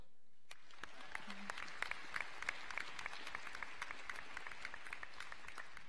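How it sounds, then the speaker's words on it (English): Faint, sparse applause at a senior awards night for a scholarship recipient: a small crowd claps in scattered, distinct slaps that continue steadily from a distance. "give him a round of applause for Peter Lombardo Scholarship"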